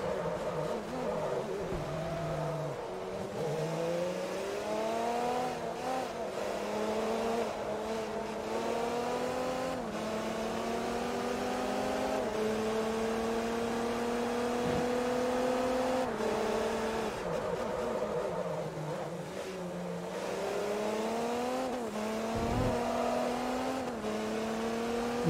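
Racing car engine in the Forza Motorsport 3 video game, a steady high-revving drone with rising and falling pitch through gear changes, loud and continuous throughout with no talk.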